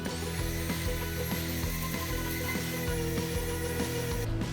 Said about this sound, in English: Orbital sander.